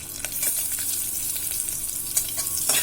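Onions and green chillies fry in hot oil in a pan, a dense continuous sizzle with soft stirring scrapes close by.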